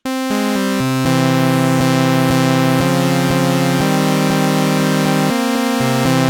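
A bright synthesizer on a default preset plays a sequence of sustained chords and notes, loud and close, with clean tones changing every half second or so.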